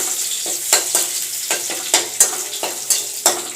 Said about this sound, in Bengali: এটাকে জাস্ট হালকা একটু ভেজে সুন্দর করে হালকা একটু ভেজে এটাকে তুলে রাখবো